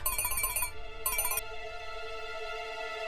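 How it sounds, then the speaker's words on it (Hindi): An electronic phone ringtone plays two short melodic bursts, leaving a sustained tonal ring, fairly loud with no talking. "केटी का फोन"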